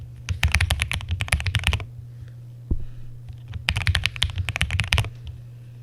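A new custom mechanical keyboard is typed on in quick bursts of crisp, deep clacking keystrokes, close and loud, with a brief pause in the middle and a steady low hum underneath.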